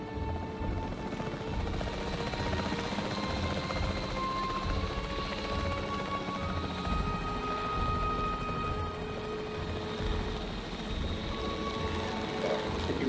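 Capture team helicopter in the Jurassic World Evolution 3 video game, a steady droning rotor hum and whine that holds constant and fairly loud for the whole stretch, no voices over it.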